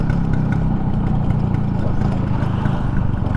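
A 1978 Vespa Super scooter engine idles steadily and close by, a constant low, throbbing run with no pauses.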